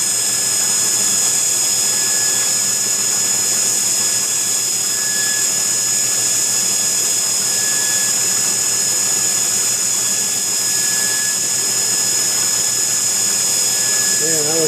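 Belt grinder shaping a custom knife blade in a knifemaker's shop, a loud continuous high whine with a steady mechanical drone that holds evenly throughout.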